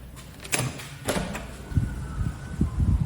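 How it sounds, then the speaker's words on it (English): An apartment door opens onto a hallway, giving a couple of sharp latch clicks and then a run of low thuds and bumps as it swings and settles, close and moderately loud. "So this door goes out into the hallway."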